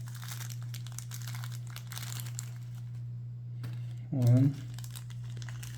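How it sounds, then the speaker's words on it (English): A Ziploc plastic bag holding M5 button head screws crinkles and rustles close by over a steady low electrical hum. A man briefly counts aloud near the end. "They just put it in the same Ziploc to, I guess, save waste."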